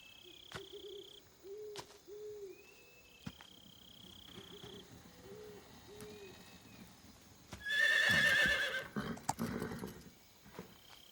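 A horse lets out one loud whinny partway through, among soft hooting calls and faint hoofbeats in a quiet outdoor setting, in the video game Metal Gear Solid 3: Snake Eater.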